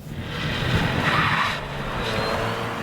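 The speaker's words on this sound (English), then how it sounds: "the Chevy Volt has a knack for spinning the tires from a stop" A Chevy Volt electric car with low rolling resistance tires spins them from a stop, a loud close tire squeal and scrub lasting a few seconds with no engine roar.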